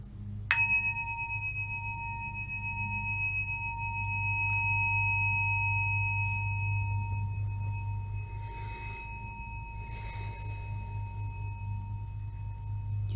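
A meditation bell is struck once, giving a clear, bright ring that sustains and slowly fades over many seconds above a low steady hum, with faint background rustles and no talking.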